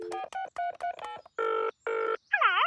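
Cartoon telephone dialing: a quick run of short beeping tones, then two longer ringing bursts and a warbling electronic ring, clear and alone.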